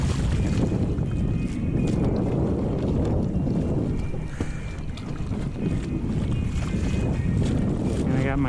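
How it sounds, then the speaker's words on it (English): A Hobie kayak sails across water in Pensacola with a dagger board down. Heavy wind rumbles across the microphone, mixed with rushing water and hull splashes, loud and continuous. "and now we're sailing."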